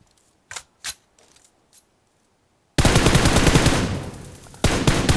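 Gunfire from a PUBG Mobile match: a few scattered single shots, a short pause, then a loud, dense burst of automatic spray that fades slightly before another burst at the end.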